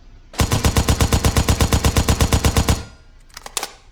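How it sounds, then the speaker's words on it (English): A SCAR-H rifle in a Ubisoft shooter fires one loud, steady, rapid burst of about twenty shots over two seconds. A brief rattle of handling follows, and no one speaks. "That's how the Scar H behaves in this game that Ubisoft made"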